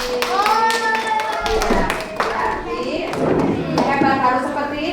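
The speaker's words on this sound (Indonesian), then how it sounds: "tepuk tangan buat Adrian yang teliti" Classroom of children clapping for a classmate, irregular claps mixed with excited kids' voices and chatter, loud and close.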